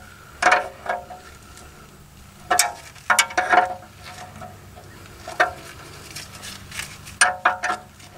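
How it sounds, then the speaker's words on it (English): A 5/8 wrench works loose the drain bolt on a car's oil pan, giving a run of clicking, ratcheting metal taps in small bursts, close and fairly crisp over a quiet background. "we are going to use a 5/8 wrench, which is appropriate to this bolt here, to remove the bolt on the oil pan"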